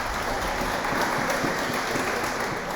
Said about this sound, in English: There's 2 claps.